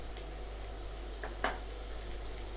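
Chopped carrot, cabbage and capsicum sizzle steadily in hot oil in a pan for egg fried rice, with a soft stirring clatter around the middle and no voices.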